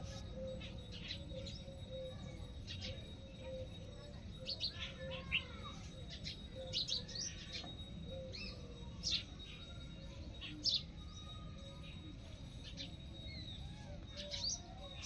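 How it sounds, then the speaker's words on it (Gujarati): Small birds chirp and tweet in short bursts through a morning garden of potted adenium plants, the calls scattered and fairly near over a steady background hiss; no talk is heard. "ચકલીઓનો અવાજ."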